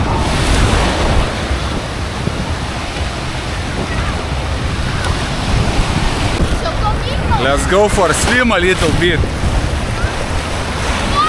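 Sea waves break and surge continuously on a shore in Vietnam, a loud steady wash with wind buffeting the microphone throughout; someone speaks briefly partway through.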